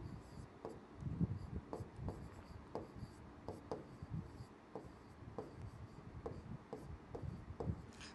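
A pen scratches quietly across paper while a chemistry half-reaction is written out by hand, with a series of short strokes and taps in an uneven rhythm close to the microphone.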